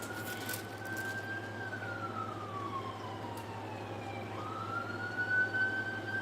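A fire department siren wailing at a distance, its pitch sweeping slowly up and down in a long continuous tone over a steady background hum.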